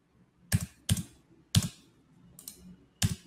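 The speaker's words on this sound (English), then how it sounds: "So I'm just typing from my keyboard right now" Five distinct computer keyboard key presses, each a crisp close-up clack separated by short quiet gaps, in an uneven rhythm with no voices.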